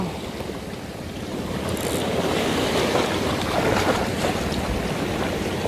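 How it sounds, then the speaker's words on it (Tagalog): Rough sea waves churn and crash continuously, building louder after the first couple of seconds, with wind buffeting the microphone throughout. "Lakas ng alon ha."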